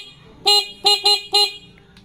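A stock Suzuki Raider 150 motorcycle horn honks four times in quick short bursts, loud and close, with brief silences between.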